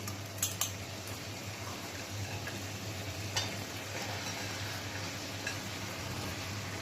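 Mutton fat drops into a pan of fried potatoes and spices for mutton ghugni, a steady low sizzle with a few faint clinks of a utensil, quiet throughout and no talk.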